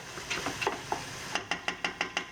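Chana dal with spices, onion and garlic is stirred in a pot, giving a series of soft scraping strokes, irregular at first and then evenly spaced, heard faint and close with no talk.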